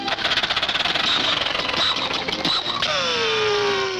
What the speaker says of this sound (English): Lucky we brought along this motor